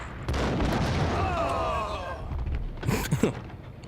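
Deep booming explosions and bursts rumble under game-like effects in Max Payne, with a couple of sharper blasts near the end.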